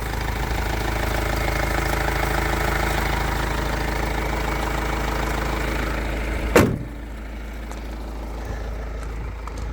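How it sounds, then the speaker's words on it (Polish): A Master 2.5 van engine idling steadily with a low rumbling drone, cut off abruptly by a thump, leaving quieter background noise. "Silnik bardzo fajnie pracuje, nic tutaj nie szarpie, nie tarpie"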